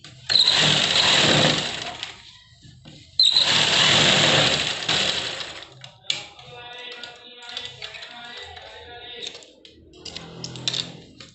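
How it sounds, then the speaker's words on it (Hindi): A sewing machine stitching elastic down the centre onto palazzo pants, running in two loud bursts of about two seconds each, followed by quieter handling noises. "अपनी इलास्टिक को इस तरह करेंगे और बीचों बीच एक सिलाई लगाएंगे।"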